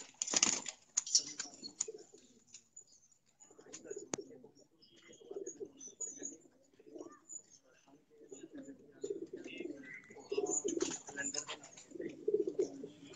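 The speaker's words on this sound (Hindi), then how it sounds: "ये देखें दोस्तों अदनान शहराज के कैलेंडर वाले कबूतर" Calendar pigeons coo softly in a loft, a steady run of low, rolling coos mixed with brief wing flutters and chirps, fairly quiet, with voices murmuring in the background.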